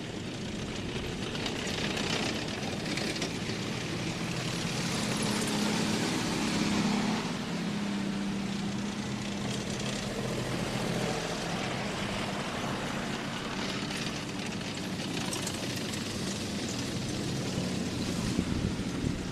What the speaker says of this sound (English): in the back of it, you can hear it rumbling away, that famous Merlin engine, derated from the Spitfire, called a Meteor